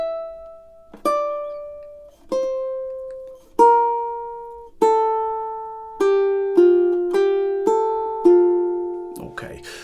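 A ukulele picks a melody of single plucked notes that grows into quicker, overlapping notes, each note ringing clearly and decaying, ending in a short scuffling sound.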